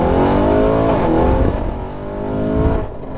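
A 2019 Porsche Cayenne Turbo tuned to 700 cv pulls away from a traffic light without launch control, its engine loud and close, roaring and rising in pitch through a gear before easing off.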